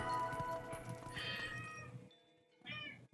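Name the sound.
cat screaming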